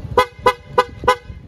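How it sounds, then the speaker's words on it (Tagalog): An aftermarket horn on a Motorstar Easyride 150FI motorcycle sounds four short, evenly spaced toots in quick succession, loud and close. "Tapos nasa loob meron tayong nilagay na aftermarket na busina."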